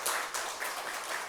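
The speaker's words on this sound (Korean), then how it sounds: "인사하시고 박수 한번 쳐주십시오" A church congregation at a Sunday service claps in steady, moderately loud applause, a dense patter of hands filling the room with no one speaking over it.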